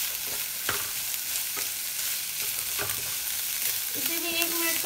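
Chopped bell pepper stir-fried in a pan for veg chowmein, a constant close sizzle broken by several scraping spatula strokes, with a brief tonal clink toward the end.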